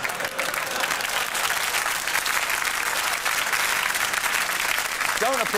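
Studio audience applause at a Christmas special comedy show, dense and steady throughout, with a voice cutting in briefly near the end.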